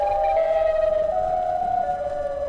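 A sustained, eerie siren-like wail from the Siren Head monster in a horror video game holds a steady tone throughout, loud and continuous with slight wavering, over low background rumble.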